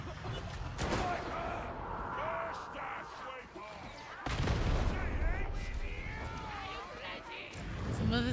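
Grenade blasts and gunfire in the Darktide video game, broadband bursts of combat noise with heavy impacts near 0.5 and 4.3 seconds, sounding under steady talking throughout.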